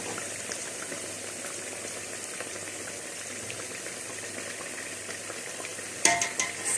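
Kabalagala, Ugandan banana pancakes, fry in hot oil with a steady close sizzle and bubbling while they are turned over and over, and a brief clatter comes near the end; nobody speaks.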